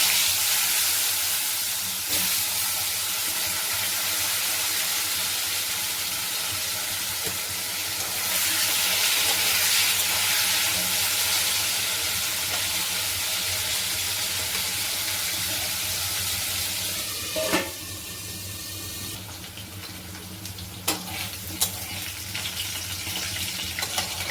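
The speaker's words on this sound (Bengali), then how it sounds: "এবার ওই একই কড়াতে আমি আলুগুলোও ভেজে নেব।" Salted potatoes frying in oil in a wok for a Bengali rui fish curry, a continuous loud sizzle with a few brief clinks and scrapes of stirring toward the end.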